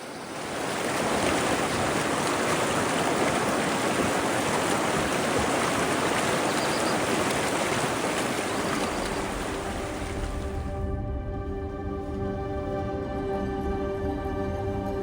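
Water rushing steadily through a creek in the Swiss countryside in spring, a dense continuous splashing roar that drops away abruptly near the end, leaving a quieter low hum.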